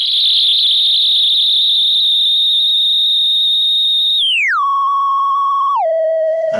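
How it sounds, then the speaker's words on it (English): A Hordijk modular synthesizer's rungler circuit shapes an unstable sine wave, a loud shrill tone holding steady before stepping down abruptly twice to lower pitches, alone. "And that way make a very unstable sine wave."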